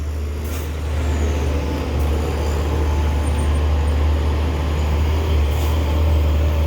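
Heavy vehicles idle and rumble steadily on the Sitinjau Lauik mountain road in West Sumatra, with a Jambi Transport bus waiting its turn behind trucks; a constant low engine drone fills the scene with a few brief hissing bursts like air brakes.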